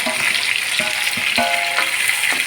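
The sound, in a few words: onion frying in a pan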